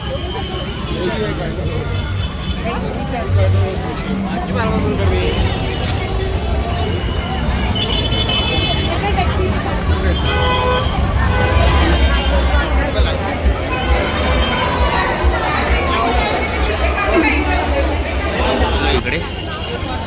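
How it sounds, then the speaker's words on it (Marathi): Dense Sunday crowd at Bandra Reclamation in Mumbai during Christmas lights, a steady babble of many voices mixed with passing road traffic, continuous and fairly loud throughout. "आणि खूप रश आहे खूप गर्दी आहे मित्रांनो आज संडे होता त्यामुळे गर्दी आहे"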